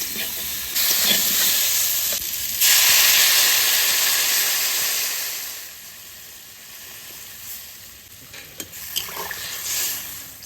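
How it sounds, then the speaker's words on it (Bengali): Loud hissing sizzle as water hits a hot pan of potatoes and cauliflower, a bright steamy burst that holds for several seconds before settling into a quieter simmering fizz. "কপিয়ার আলু এবার আমি জল দিয়ে দেবো"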